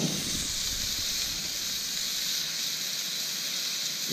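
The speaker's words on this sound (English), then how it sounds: "Scallops seared on the griddle." Scallops searing on a griddle give off a steady, broad sizzle that holds even and close for several seconds with no voices.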